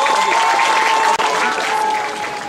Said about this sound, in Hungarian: még egyszer kérek egy nagyon nagy tapsot nekik